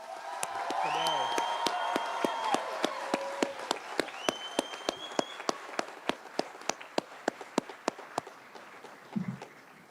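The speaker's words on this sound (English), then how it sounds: "let's give a huge, crazy round of applause for tonight" A graduation ceremony audience claps in a steady, evenly spaced rhythm, with a few voices calling out near the start over a continuous crowd murmur.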